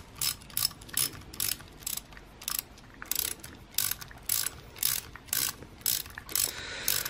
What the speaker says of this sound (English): 7mm ratchet works good.